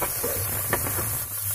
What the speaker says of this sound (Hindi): और ये प्याज तब तक फ्राई करेंगे जब तक कि गोल्डन ब्राउन हो जाते हैं।